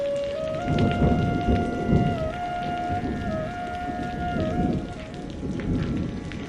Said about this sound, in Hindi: एक हफ्ते तक बारिश हुई।